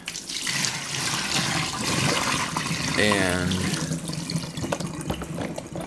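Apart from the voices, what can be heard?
water being dumped out of a container of soaking knives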